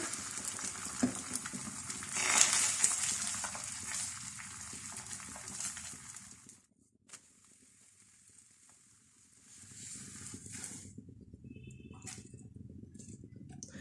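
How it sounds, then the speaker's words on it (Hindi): Beaten egg seasoned with salt and colour fries in a little oil in a pan, a bright steady sizzle that drops away midway, then resumes more softly. "अब इसमें अंडा जिसमें हमने नमक और जल्दी रंग डाला है इसको फ्राई कर लेते हैं।"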